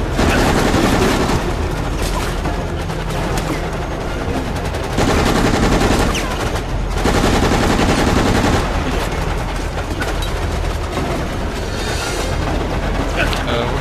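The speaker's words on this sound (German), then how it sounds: "aber ziemlich viel Schüsse" Dense, continuous gunfire in the video game Resident Evil: Operation Raccoon City, rapid bursts and booms, loud and nearly unbroken throughout, with faint speech mixed in.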